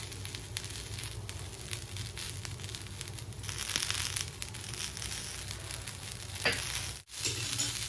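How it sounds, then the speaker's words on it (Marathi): Fresh coriander roasts in a hot pan for green chilli thecha, giving a steady, close sizzle with soft crackles and a faint scrape of stirring throughout. "कोथिंबीर पण ऍड करूयात। ती थोडीशी भाजून घेऊया।"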